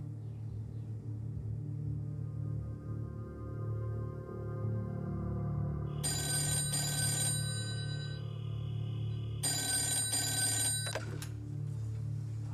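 An old-style telephone bell rings in two bursts of a few seconds each, a bright metallic trill heard indoors over a low steady rumble.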